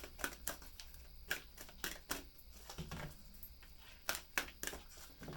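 Tarot cards are shuffled by hand, an irregular series of crisp clicks and flicks with short pauses between, close but fairly quiet, with no talking.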